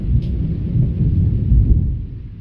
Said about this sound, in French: Par contre le tonnerre, là il se déchaîne le tonnerre.